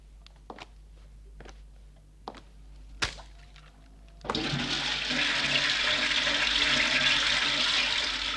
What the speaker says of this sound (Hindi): अरे ये तो सचमुच फ्लश में जा रहे हैं।